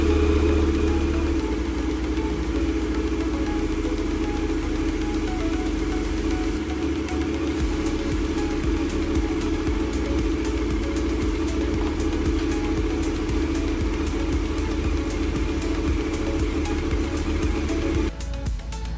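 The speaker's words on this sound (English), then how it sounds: "let's fire up the engine" KTM 1290 Super Adventure motorcycle engine idling steadily and loud, a close mid-pitched rumble holding even for most of the span before cutting off near the end, with no talk.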